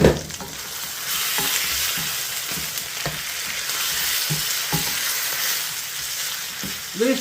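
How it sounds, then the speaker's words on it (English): Chicken pieces and garlic sizzle loudly in a hot pan for Filipino adobo, a steady close crackle with periodic stirring scrapes and no talking. "Listen to that sizzle."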